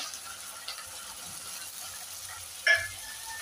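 A large finely chopped tomato dropped into a hot pan, giving a soft steady sizzle with one brief sharper spatter near the end, faint and without talk.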